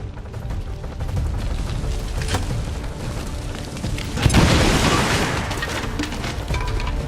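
A video-game grenade goes off in a muffled boom, followed by a loud burst of crackling noise that swells and slowly fades against steady background rumble.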